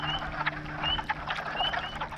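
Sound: frogs calling at a pond

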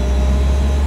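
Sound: manual car engine revving at 2000 rpm

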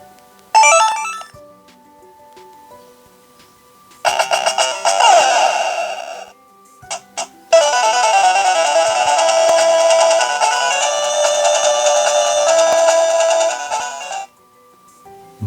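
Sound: handheld game console speaker at full volume

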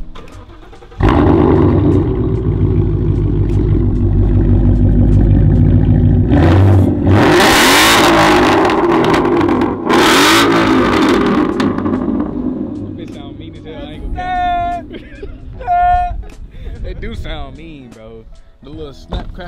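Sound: Dodge Hellcat car engine revving with subwoofers

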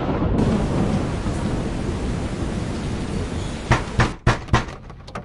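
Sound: thunderstorm with thunder and rain

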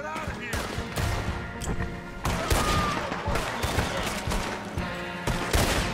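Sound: gunfire in the video game Red Dead Redemption 2

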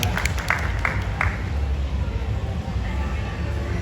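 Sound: audience applause welcoming the Thai Bonsai Association president

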